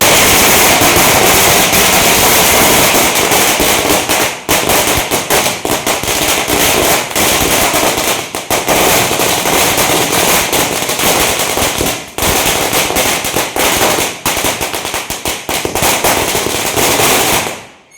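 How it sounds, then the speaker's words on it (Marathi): Firecrackers burst loudly and continuously in dense, rapid crackling volleys for the whole stretch, with only brief dips between bursts, during Diwali Padwa celebrations in Solapur. "या पूजनानंतर फटाक्यांची जोरदार आतषबाजी करण्यात आली"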